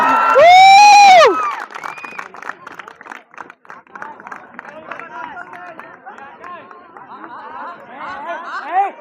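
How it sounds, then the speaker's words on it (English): A crowd at a tournament prize distribution cheers and shouts, opening with one loud sustained voice and then a busy, continuous mix of voices and some clapping that keeps going throughout. "A huge round of applause for everyone."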